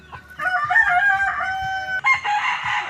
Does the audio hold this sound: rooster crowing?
yes